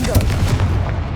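A loud, close booming blast from a Confringo fire spell in Hogwarts Legacy, a short burst that rumbles and fades within about a second, partly mixed with a voice.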